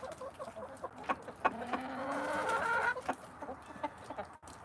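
A young rooster, about a year old, and his hens in a backyard flock cluck and call in short, repeated bursts, with a longer drawn-out cackle in the middle, close by and fairly loud.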